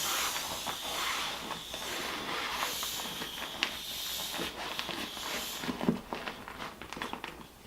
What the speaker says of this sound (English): you would squeeze all the air out of here